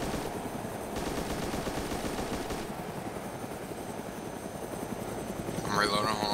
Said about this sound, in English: Hold on, the Huey's right next to me.